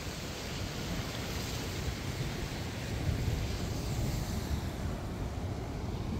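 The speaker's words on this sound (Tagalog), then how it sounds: "Medyo malakas yung alon ngayon." Strong ocean waves on a rocky Bermuda shore make a continuous broad roar and wash that swells slightly midway and stays heavy throughout, with no talking.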